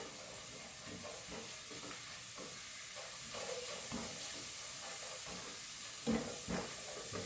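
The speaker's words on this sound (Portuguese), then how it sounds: "Deixar que frite um pouquinho o colorau" Annatto powder (colorau) sizzles steadily in a hot pan, a close, even hiss with a few faint stirring scrapes.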